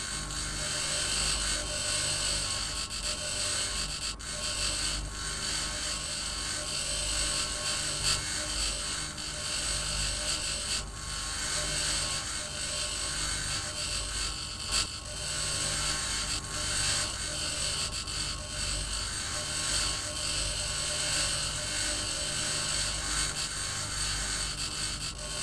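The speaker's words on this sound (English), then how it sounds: "I'm going to grind this down." Grinding down parts in the Mars colony survival game Occupy Mars gives a steady, loud mechanical whirring drone that holds unbroken for the full span, with a few faint clicks and no talking.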